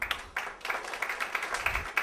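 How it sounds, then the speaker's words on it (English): A small group in a session hall claps for a young keyboard player, a thin, scattered patter of hands that stays fairly quiet throughout. "A big round of applause"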